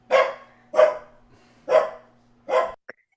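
A person imitating a dog barking at the moon gives four loud, evenly spaced woof-like barks, close and clear, with a short clipped sound at the end.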